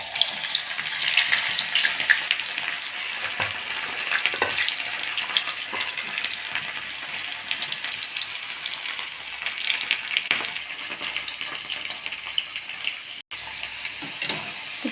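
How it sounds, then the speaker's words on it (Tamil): Slices of ivy gourd sizzle and crackle as chips fry in hot oil, a continuous dense bubbling hiss heard up close with no talk. "இப்போ எண்ணெய் காஞ்சிடுச்சு, போட்டு எடுத்துடலாம்."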